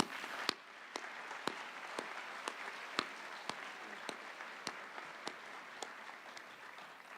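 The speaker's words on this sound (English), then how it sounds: "let's give them a round of applause" A graduation crowd gives a round of applause for school district employees, heard as sparse, single claps spaced about half a second apart that ring faintly through a large hall.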